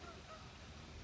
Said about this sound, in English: You hear the geese in the background